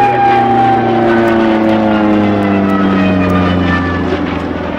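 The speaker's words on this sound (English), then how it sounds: "That is the sound of the wind in the wires." A propeller plane roars steadily close by at an air show, its pitch sliding downward as it passes, with a whistling drone of wind in its bracing wires and no talking.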